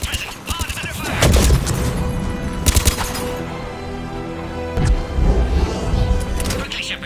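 Gunfire in the Mass Effect 3 game, a few loud blasts and crashing impacts spaced across the stretch, mixed with mechanical rumble and game voices speaking around them.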